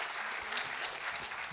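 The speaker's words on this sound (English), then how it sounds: "We'd like to request you to please give Dr. Ajay a big round of applause." An audience applauds a keynote speaker, Dr. Ajay Chowdhry, with steady, dense clapping that fills the whole moment at an even level and no voices.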